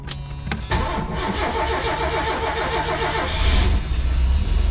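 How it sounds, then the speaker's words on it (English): A 1979-1986 Ford Mustang engine cranks in park with a couple of sharp starter clicks, then catches and runs steadily at idle, rising slightly in loudness near the end. "Car's in park, let's see if it starts."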